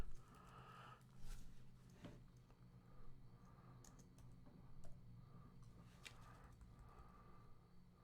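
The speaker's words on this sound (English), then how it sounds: "so I'm going to type it in." Faint scattered keystrokes on a computer keyboard, with irregular clicks spread over several seconds at low volume against a quiet background.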